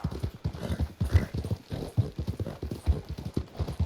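A heavy Shire horse's hooves beat out a continuous clip-clop in Red Dead Redemption 2, close and weighty, each step landing with a low thud in a steady walking rhythm.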